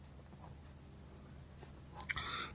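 Pen writing on paper: faint scratching strokes close by, growing into a brief louder burst of scribbling near the end, with no voice.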